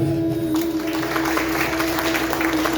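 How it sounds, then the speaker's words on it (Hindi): Audience applause at a cultural function in Giridih honoring a tabla player: dense, steady clapping from a crowd throughout, with a constant electrical hum underneath. "आप लोग एक बार जोरदार तालियां हो जाए।"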